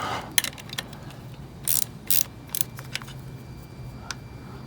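A ratchet wrench snugs down a mounting bolt on a Harbor Freight Badlands ZXR 1200 lb winch, producing scattered short clicks and a few quick ratcheting bursts, close by in a quiet setting.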